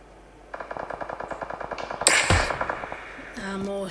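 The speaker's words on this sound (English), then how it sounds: "More shots are being fired" Rapid automatic gunfire in the battle-royale game PUBG during a competitive scrim match: a steady string of evenly spaced shots, then a louder heavy blast, with a brief voice near the end.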